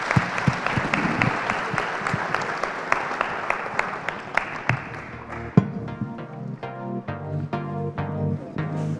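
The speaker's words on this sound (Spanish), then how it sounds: "nos damos un aplauso a los panelistas," Applause for the panelists at the close of a Spanish-language panel debate on IPv6 and DNS, dense clapping from the audience that thins toward the end into sparser, individual claps.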